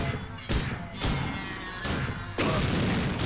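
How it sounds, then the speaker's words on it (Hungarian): Several heavy booming explosions in the PC game System Shock 2, loud, close and rumbling, coming in quick succession, four bursts, with no talk over them. "valami rám robbant"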